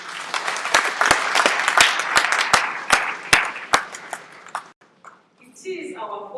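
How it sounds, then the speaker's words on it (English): Applause from an audience at a government ICT Innovation Fund launch in Zimbabwe, a room of clapping hands with a few sharp, loud claps standing out, fading into near silence before a voice starts speaking. "let us give a round of applause to this very great mission"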